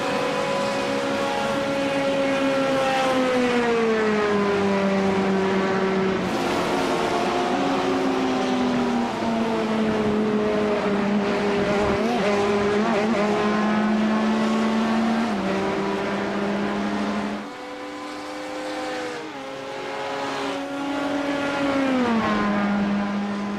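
Race car engine in iRacing at Daytona, a loud sustained engine whine climbing and dropping in pitch with gear shifts, continuous and close throughout.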